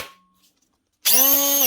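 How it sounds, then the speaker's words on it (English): A Makita DTM51 cordless 18 volt multi-tool with a universal motor starts up after a near-silent pause, a loud buzzing whine with strong harmonic tones that runs steadily to the end. "This is the second biggest cordless 18 volt multi-tool Makita do."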